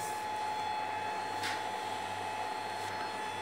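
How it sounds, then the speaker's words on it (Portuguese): A robotics-class 3D printer powered up and running, giving a steady mechanical whir with a constant fan-like hum and a couple of brief higher swishes, fairly close and without speech. "Então eu vou ligar essa impressora"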